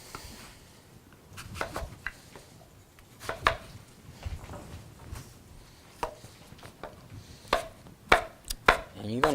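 A knife slices an unpeeled apple thinly on a cutting board for an autumn apple slaw, making a series of soft, irregular chopping taps that quicken toward the end, close but quiet, with no talking.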